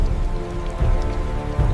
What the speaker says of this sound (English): the first heavy drops become a relentless downpour